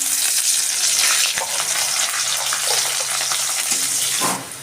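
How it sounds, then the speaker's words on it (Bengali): Chopped onion fries in a pan with dried red chilli, cardamom, cinnamon and cumin seeds, a loud continuous sizzle with a few stirring scrapes that eases off just before the end. "পেঁয়াজটা ভাজা হয়ে গেছে"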